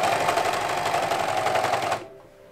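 A sewing machine stitches cosplay sleeves in a fast, even mechanical rattle, running steadily and close for about two seconds before stopping abruptly, leaving quiet room tone.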